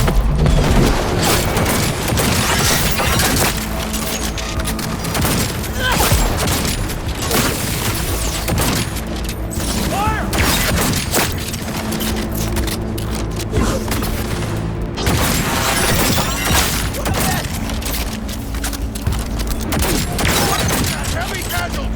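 Dense, relentless gunfire and booming explosions from a Cyberpunk 2077 firefight fill the scene with no pause, loud and chaotic, with voices shouting beneath the barrage.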